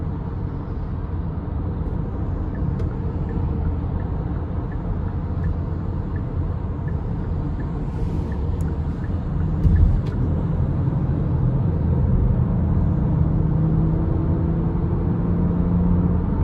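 A 2022 Kia Carnival LXS with a 3.5 V6 and 8-speed automatic merges onto an interstate, heard from inside as a steady, even cabin drone of engine and road noise with a brief bump near the middle.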